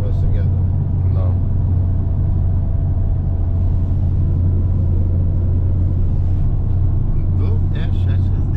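A steady low engine rumble and road hum fill a moving car cabin throughout, with people talking over it.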